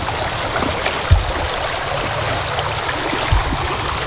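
Water in a shallow creek flows steadily close by, a continuous broadband rushing and babbling with a couple of brief low thumps, and no talking.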